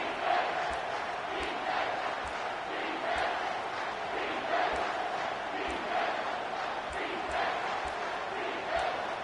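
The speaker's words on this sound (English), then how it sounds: "this crowd will blow out a vocal cord to help this defense" A college football stadium crowd at Auburn versus Michigan roars for the defense, a sustained loud mass of cheering and yelling, with rhythmic thumps and a commentator speaking over it.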